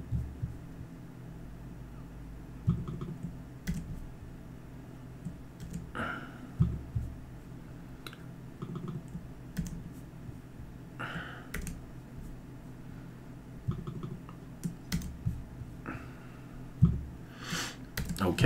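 Sharp, sparse clicks of a computer mouse, scattered irregularly over a low steady hum, close and fairly quiet, with no one talking.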